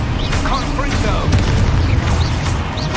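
Confringo spell blast in a Hogwarts video game, loud booming bursts and crackling impacts repeating across the moment, with voices and cries mixed into the chaotic fight.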